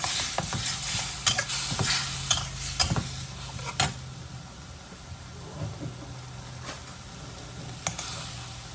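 Chicken giblets stir-fried with oyster sauce and soy sauce in a pan, sizzling continuously under repeated clattering scrapes and knocks of the spatula, busy at first and then sparser.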